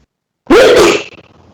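A single sharp, loud sneeze bursts out of silence, close by, then fades quickly.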